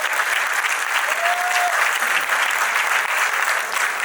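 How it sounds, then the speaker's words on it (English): Sustained applause from an audience at a personality contest show, a dense, steady wash of many hands clapping together, loud and continuous throughout with no talk over it. "Big round of applause once again, please."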